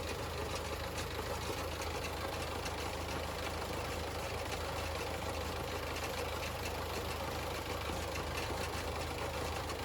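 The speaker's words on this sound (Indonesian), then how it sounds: "Setelah bleeding lanjutan selesai, mesin harus hidup stabil." A diesel forklift engine idles after its fuel system has been bled, giving a steady, even rumble with a constant mechanical clatter and no change in speed throughout.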